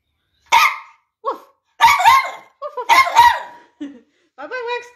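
Dogs barking at a pool, seven sharp close barks in irregular bursts with short gaps, some yelping and whiny, loud and alone without talk.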